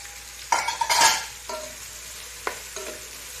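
Onions in ghee stirred in a pan for Kothamangalam-style dum biryani, giving a close, soft sizzle with a few sharp scraping strokes of a spoon against the pan, and no voices.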